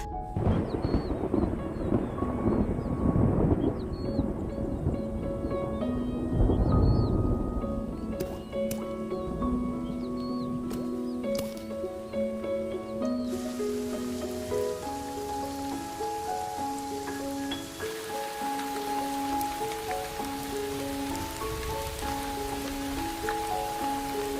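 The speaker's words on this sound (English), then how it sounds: "After months of drought and struggle, the rains finally arrive." Heavy rain pours steadily on open savanna ground after months of drought, with a long low rumble of thunder rolling underneath early on, the downpour continuing as a dense, unbroken hiss throughout.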